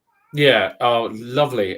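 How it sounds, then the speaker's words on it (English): A pet cat meows in the background of a home setting, its mewing mixed in with close conversational voices that dominate the short stretch. "you can hear my cat in the background"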